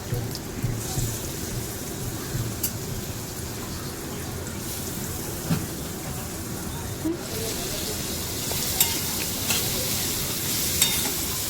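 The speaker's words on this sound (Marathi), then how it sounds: "आता ह्या आपला तेल गरम झाला असा आता ह्याच्यात आपण कांदो टाकून घेऊया" Onions frying in hot oil in a pan for the Marathi dish kalva, giving a steady, loud, dense sizzle like heavy rain with occasional stirring clinks, and a person talks over it.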